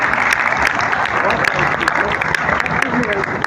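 An audience at a lecture claps together in a dense, steady round of applause, loud and close, lasting the whole stretch with a voice faintly audible beneath it.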